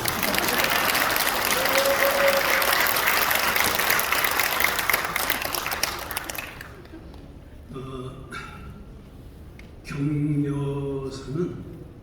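An audience at a Korean church assembly ceremony in Gwanghwamun claps in a dense, sustained burst of applause that fades after several seconds, then a voice speaks over the quieter room.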